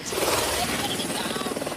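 A joyride helicopter takes off from the SeaWorld theme park on Australia's Gold Coast, its rotor chop a steady, moderately distant pulsing drone beneath a speaking voice.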